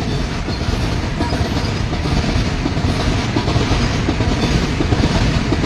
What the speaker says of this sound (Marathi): मोठी ट्रेन.